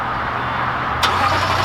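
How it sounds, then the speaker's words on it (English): A 2020 Lexus LC 500 V8 starts by remote, a sharp burst of engine cranking and catch about midway, settling into a steady close idle with no talk. "So there you go, you've got remote start on it."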